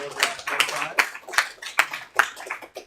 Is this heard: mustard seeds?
no